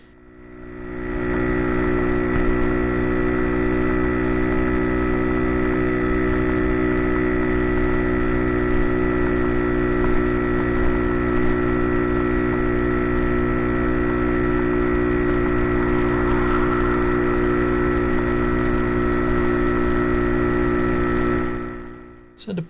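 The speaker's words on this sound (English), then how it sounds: "The engine sounds really nice" A Bullit Hero 50cc motorcycle engine runs at a steady, loud idle, a constant droning hum with no change in pitch for about twenty seconds before cutting off at the end.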